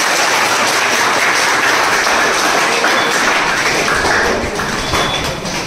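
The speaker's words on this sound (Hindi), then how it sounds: "ताली बजा दे भाई जोरदार।" Loud, sustained applause from a gathered crowd at a garlanding ceremony honouring a new Agniveer army recruit, dense clapping filling the whole stretch with a few thuds and a faint voice underneath.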